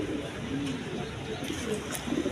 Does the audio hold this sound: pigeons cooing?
yes